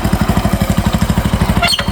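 A motorcycle engine running close by, loud rhythmic thumping idle with steady pulses, a short clatter near the end.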